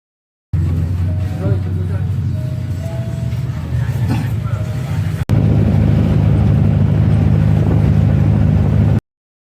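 Riding inside a jeepney on a trip in Albay, Philippines, with a steady low engine drone and road rumble that grows heavier partway through, while passengers talk quietly.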